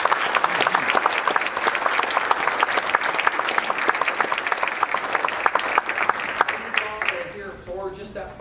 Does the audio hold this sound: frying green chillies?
no